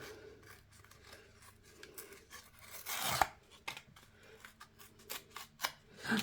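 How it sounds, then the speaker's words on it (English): A cardboard box rubbing and scraping against a mirror, with light scratchy rasps throughout, one loud broad scrape in the middle, and a few sharper brushes near the end, all close up and without speech. "That's the box against my mirror."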